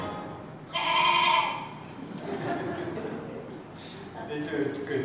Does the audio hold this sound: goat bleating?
yes